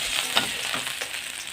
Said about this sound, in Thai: เอาตั้งกระทะใส่น้ำมันไปครับ สักสองสาช้อนนะครับ